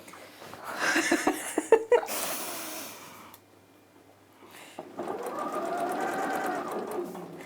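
A sewing machine stitches a seam during dressmaking, its needle racing up and down in fast bursts that stop and restart, close and fairly loud, with a faint breath or voice in between.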